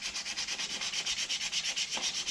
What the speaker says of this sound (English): do a final sanding in the direction of the grain